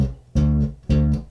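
A bass guitar plays a short riff, two clean pitched notes repeated in a tight, punchy rhythm, close and alone.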